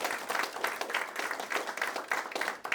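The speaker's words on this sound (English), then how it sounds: "So first, a round of applause to our candidates tonight." Applause from a modest audience at a county Republican Party House of Delegates debate, a steady round of many hands clapping at moderate distance throughout, with no talking over it.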